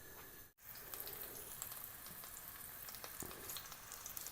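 Chicken meatballs frying in a little oil in a pan or kadhai, a steady close sizzle after a brief silent gap at the start, with occasional pops and no voices.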